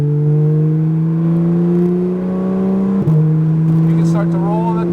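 Porsche GT3 RS engine accelerating on a road course at MIS, a loud close-up rising whine with strong harmonics climbing steadily, a brief break near the shift, while an instructor talks over it.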